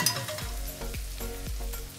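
Ground coriander and cumin sizzle in a hot pan with oil, a close, crackling fry with rhythmic scraping strokes as the spices are stirred, and no voices.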